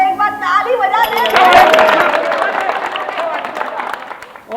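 A theatre audience at a stage play bursts into clapping and cheering just after a voice speaks, the applause swelling and then gradually thinning out.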